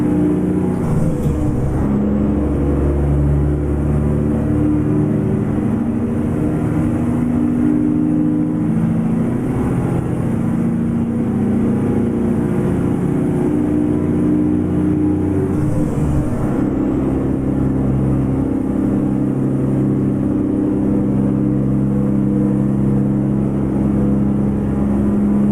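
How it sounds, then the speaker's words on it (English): A Beta T600 truck engine in American Truck Simulator drones steadily and loudly, revving as gears shift, with a couple of brief dips in pitch where shifts occur and no talking. "Kind of learning this engine. It needs some juice when you're shifting."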